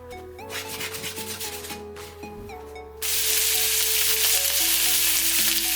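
Onions being fried in hot oil in a pan, a strong steady sizzle that jumps louder midway as they are dumped in and hit the oil, with light clatter and stirring on top.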